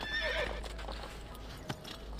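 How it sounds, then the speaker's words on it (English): A horse in the Assassin's Creed 2 video game whinnies once, followed by clopping hooves and faint scattered game sounds, all brief and close. "look at that horse"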